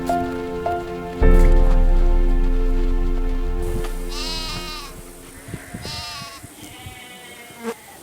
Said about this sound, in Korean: 양과 염소는 항상 같이 기릅니다.